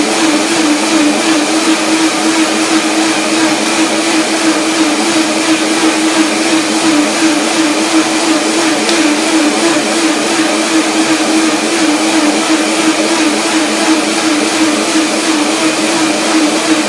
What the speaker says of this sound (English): So here it is, and blender dance.